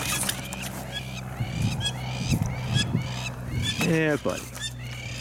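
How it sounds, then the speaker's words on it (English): Geese honk repeatedly outdoors, with high calls through the first few seconds and a louder, harmonic honk near the end, under a man's calm, low talk. "Birds."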